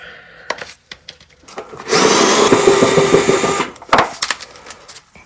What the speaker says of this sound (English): This right angle tool is doing wonders, speeding up the work.